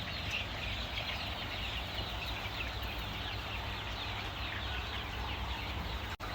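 Chickens on a small poultry farm cluck steadily and continuously against a dense, constant background of farm noise, no voices.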